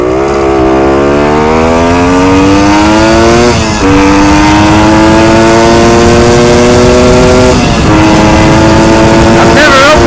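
A Kawasaki Scrambler motorcycle at full throttle, its engine loud and close with a steady high-pitched roar that climbs through the gears, a couple of brief dips at the shifts, and wind noise over it all.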